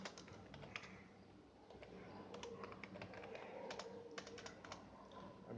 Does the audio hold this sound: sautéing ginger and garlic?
no